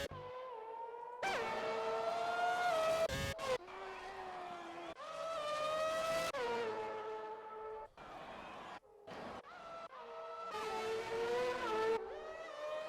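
Race cars in a racing video game roar past in a string of loud engine passes, their pitch sweeping up and down as they accelerate, with brief gaps between cars.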